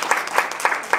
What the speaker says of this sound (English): Please give a round of applause, Dr. Christine Sobek.